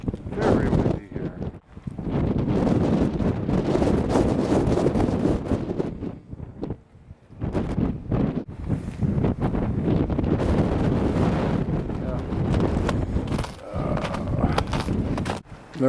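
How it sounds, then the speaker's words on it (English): Strong gusts buffet the microphone in loud, roaring bursts that rise and drop over time at an outdoor snow and ice art site in Finland, with no one speaking. "Very windy here."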